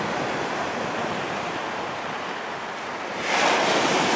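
Stormy winter sea waves crash on the shore at Lazarevskoye, a steady loud roar of surf and wind that surges louder near the end, with no voices.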